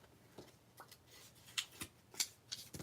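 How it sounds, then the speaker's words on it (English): Scissors cutting out a watercolour-painted paper piece for a craft project, a quiet close series of crisp snips and paper rustles in an uneven rhythm, with no talk. "So we're just going to cut this out"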